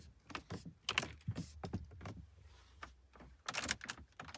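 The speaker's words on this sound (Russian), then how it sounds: "Итак, проверка на скрип." Scattered creaks and clicks come from a BMW car interior as parts are pressed and moved, irregular short bursts close to the listener with a louder cluster near the end.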